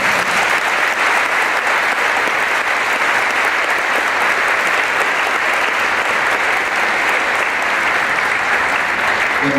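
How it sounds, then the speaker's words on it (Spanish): A church congregation claps together in sustained, dense applause, a loud even roar of many hands that holds steady without pause from start to finish. "Denle un aplauso maravilloso al Señor"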